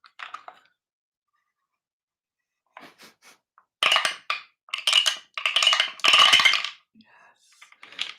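Dice clatter down a dice tower in several separate clicking bursts. A few light taps come first, then repeated louder tumbling runs of click-clack close by, with short pauses between them.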